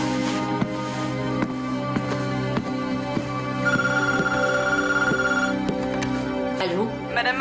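A telephone rings repeatedly indoors, steady electronic trilling over a continuous tonal background with faint clicks.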